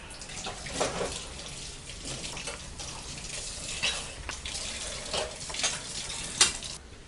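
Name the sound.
mutton keema balls frying in a little oil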